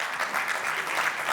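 Audience applause at the POPRI 2024 closing ceremony, a steady wash of many hands clapping together at moderate volume, sustained without pause and with no voices over it.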